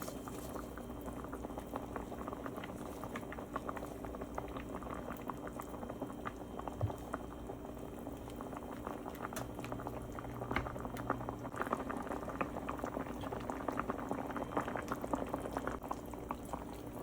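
Pomfret fish pulusu, a tangy tamarind curry, bubbles in a pot in a steady, continuous simmering boil with soft liquid popping, close and even in level throughout, with no talk.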